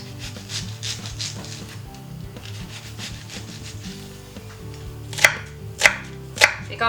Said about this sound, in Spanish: Picamos finita la cebolla.